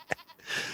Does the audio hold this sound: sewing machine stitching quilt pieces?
no